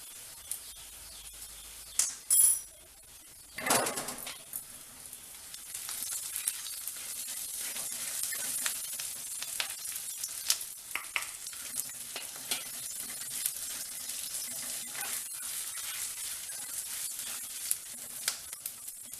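Sliced onions fry and sizzle in a pan for red chilli chutney, a steady soft crackle with occasional stirring scrapes, close by and fairly quiet, after a couple of brief louder clatters at the start.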